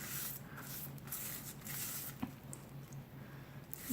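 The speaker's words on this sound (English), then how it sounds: "I'm going to use a basting brush with my water." A basting brush dabs water onto a sheet of seaweed for a sushi roll, giving soft, faint wet squishing and patting strokes in a steady series, close by, with no talk.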